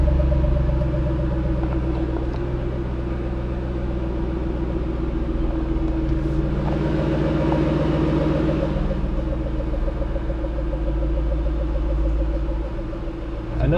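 Shelby GT on Mickey Thompson ET Street Radial II drag radials, its engine giving a deep, steady close-up rumble as it backs out, someone briefly talking over it.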